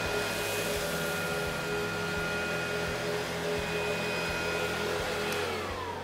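A Hoover CH50100 Insight bagged upright vacuum cleaner runs with a steady, loud, even motor whine and airflow roar that holds unchanged throughout, with no voices over it.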